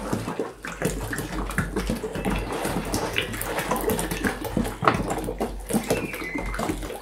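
A liter of water pours into a batch of homemade liquid soap, making a continuous close splashing and gurgling with uneven surges for several seconds and no speech.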